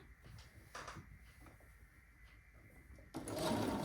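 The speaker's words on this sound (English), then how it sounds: "I'm going to take these 2 and sew them together" Quilt pieces are sewn together on a sewing machine, its low mechanical run soft and uneven at first, then swelling into a louder, denser whir during the last second.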